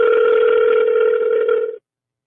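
An outgoing phone call rings with no answer, giving one long, steady electronic ring tone that holds for nearly two seconds and then cuts off abruptly into silence.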